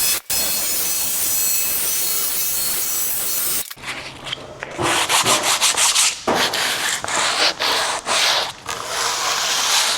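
Power saw cuts through a campervan bed bulkhead board, loud and close, with a harsh grinding rasp broken into several short bursts and pauses after an initial stretch of steady noise.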